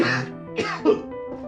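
A person gives a short series of rough coughs and throat-clearing bursts, close and fairly soft. Three or four quick separate hacks come within about a second, with no talking.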